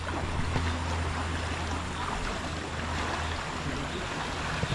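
A boat engine hums steadily on open water, mixed with wind and the wash of waves, with a constant low drone throughout.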